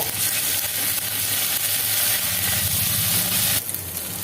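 Onion, ginger-garlic paste, chopped green chilli and cumin-coriander powder sizzle steadily in a pan, a continuous dense frying hiss that stays loud and even throughout, with a slight change near the end.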